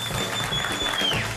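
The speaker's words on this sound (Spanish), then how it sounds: "Así que reciban con un aplauso muy fuerte a Anita Águila y a Acho Badaraco." A studio audience at a televised comedy show claps for comedians, a brief, even burst of applause throughout.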